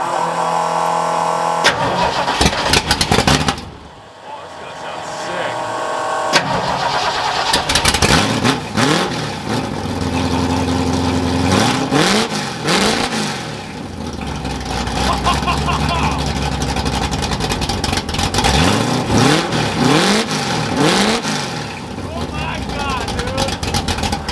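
A Ford F-100 truck engine with an X-pipe exhaust cranks and fires up, then revs repeatedly with a loud, raspy exhaust rising and falling in pitch; voices talk over it.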